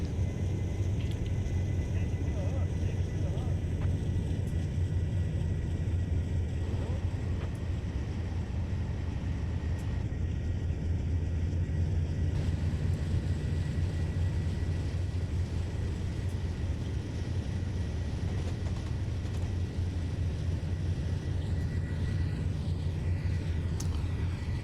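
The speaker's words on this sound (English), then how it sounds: "We have a nice long train." A long BNSF freight train in Train Simulator 2013 rumbles steadily along, a continuous low engine drone and rolling noise with no whistle, unchanging throughout and fairly loud.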